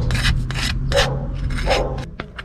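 Contact glue spread over a vinyl floor with a beekeeping hive tool inside a Kombi van, short scraping and rubbing strokes in an uneven rhythm, close and moderately loud, no voices.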